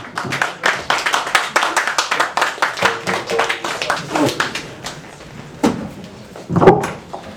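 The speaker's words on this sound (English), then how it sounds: "Big round of applause." A crowd at an open mic comedy night applauding and clapping steadily for several seconds, loud and dense, with a few louder knocks and bumps toward the end.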